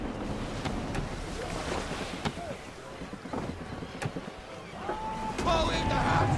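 Gusty wind and sea surge around a sailing ship at full sail in Assassin's Creed III, a steady rushing roar with creaks and splashes, swelling louder near the end.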